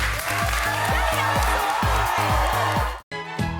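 Studio audience applause at a home makeover talk show, loud and continuous over a steady rhythmic music beat, then cut off abruptly near the end before a brief resumption.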